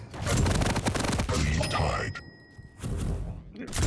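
Rapid nail gun fire in a competitive first-person shooter duel between St0n3 and PASITA, dense repeated shots with mechanical clatter and metallic pings, loud and close, with a commentator talking over much of it.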